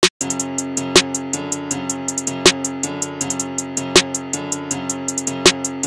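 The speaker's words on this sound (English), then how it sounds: "And the snare is going to sound like this originally." Uncompressed snare drum sample in a hip-hop beat built in FL Studio, cracking sharply on a steady backbeat over sustained piano chords and rapid ticking hi-hats, loud and upfront with no speech.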